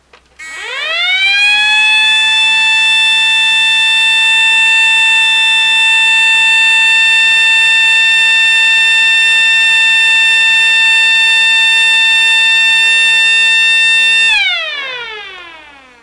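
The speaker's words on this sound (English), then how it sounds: "now we're going to be doing a full test, full crank up on the siren" A loud homebuilt outdoor warning siren at full crank winds up from low to a piercing sustained wail, holds steady for a long stretch, then winds down as it spins out.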